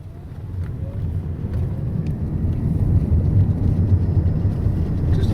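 A Chevy Volt drives on a coned test course, a low road and motor rumble building gradually in loudness from inside or near the car, with no speech over it.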